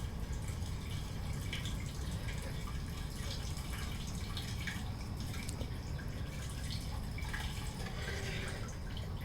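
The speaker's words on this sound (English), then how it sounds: "Try to dump the gasoline back into the fuel tank here, so we don't spill any on the concrete." Gasoline pouring back into the fuel tank of a GMC Sonoma pickup, a steady trickling and dripping of liquid that runs continuously, close and moderately loud, with no talking.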